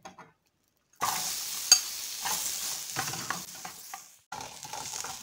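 Onion and garlic hit hot oil in a pan for red pipián, breaking into a steady loud close sizzle with stirring scrapes after a brief quiet start.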